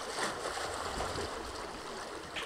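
Water washing and gurgling against the hull outside a sailboat, a soft, continuous splashing murmur heard faintly and close, with no voices.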